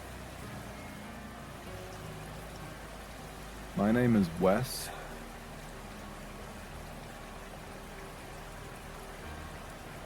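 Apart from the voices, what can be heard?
creek water and wind noise in the woods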